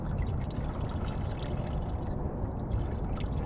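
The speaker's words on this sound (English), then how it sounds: "Take some water out. Let's see if I can scoop any out." Lake water scooped and poured out of a container at Yorba Regional Park, a short, close, continuous splashing trickle heard alone.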